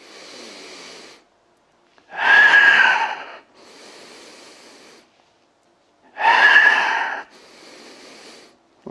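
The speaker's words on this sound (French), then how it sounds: "J'inspire, je relâche." Heavy breathing during a Pilates exercise on TRX straps: close, alternating breaths with two louder, forceful exhalations between softer inhalations, repeating in a slow rhythm with no talk.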